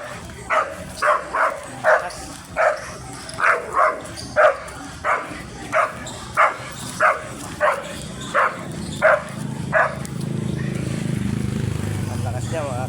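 An angry dog barks in a steady run of about a dozen loud, evenly spaced barks at a neighbouring dog, close by, before a rumbling engine-like noise takes over near the end.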